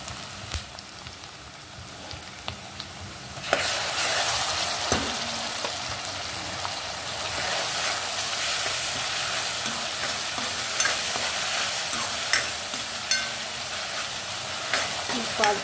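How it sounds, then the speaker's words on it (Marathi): Ginger garlic paste hits browned onions in a hot pan for pav bhaji, giving a bright, continuous sizzle that swells after a few seconds, with occasional spoon scrapes and stirring taps close by. "लालसर कांदा झाला, त्यामध्ये आलं लसूणची पेस्ट टाकायची।"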